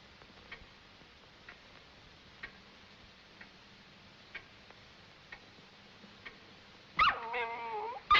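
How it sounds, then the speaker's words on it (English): A clock ticks steadily and faintly, then a dog breaks in with a loud, close yelping bark near the end, followed by another short bark. "Take that infernal dog and put him out."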